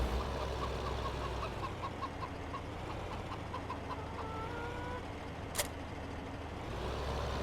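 Chickens in the Farming Simulator 15 video game cluck in a steady, rapid series of short calls over a constant low engine hum, with a brief sharp noise near the end.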